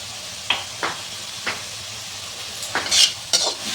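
Turmeric and salt frying in a pan for an egg curry, with a soft steady sizzle and several distinct scraping stirs of a spoon against the pan, close and clear, no voices.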